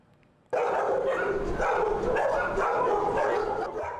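Stray dogs at a crowded animal shelter in Taitung County, Taiwan, bark and yip in a loud continuous chorus that bursts in suddenly after a quiet start.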